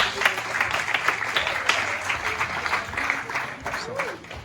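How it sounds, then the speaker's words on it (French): An audience at a certificate-of-merit award ceremony applauds, with steady dense clapping throughout and voices mixed in underneath. "sous vos applaudissements"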